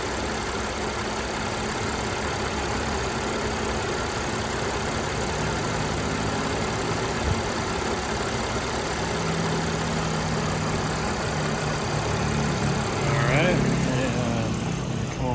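A 2011 Audi S4 engine idles at low, even revs throughout, with a brief swell in pitch near the end; the hum stays constant and close.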